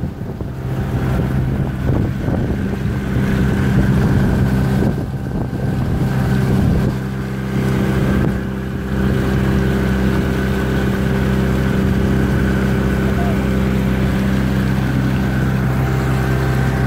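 A Sea Fisher 610 catamaran with a steering console cruises at about 15 km/h, its outboard motor droning steadily under heavy wind buffeting and water rush, loud and continuous throughout.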